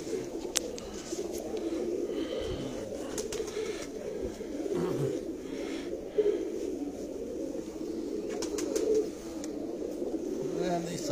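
Lalpuri-type pigeons coo in low, rolling, continuous murmurs close by, with a few brief sharper sounds scattered through and people talking over them.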